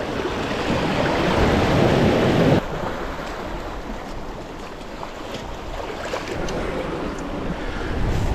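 Ocean waves breaking on a beach on the south coast of Western Australia, heard as a loud, steady roar of surf and wash with wind buffeting the microphone; a heavier surge in the first seconds eases into a continuous churn.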